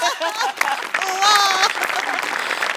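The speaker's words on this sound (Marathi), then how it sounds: "तर या जादूसाठी एकदा तुझ्यासाठी टाळ्या." Audience applause at a comedy show, a burst of clapping from a crowd mixed with a loud voice speaking over it, brief and close.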